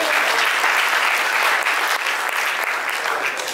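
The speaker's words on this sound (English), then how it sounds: "Give God a clap offering there." A church congregation gives a 'clap offering' during a sermon, a steady, loud wash of many hands clapping together that continues unbroken and fades only slightly toward the end.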